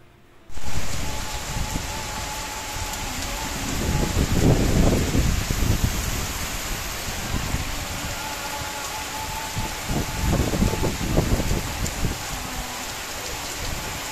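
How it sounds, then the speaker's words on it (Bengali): Heavy, steady rain pours down on a yard with a roofed shelter, a continuous close hiss with louder surges of drops drumming on surfaces. "আর এইদিকে তো প্রচুর বৃষ্টি, বৃষ্টি যেন থামছেই না"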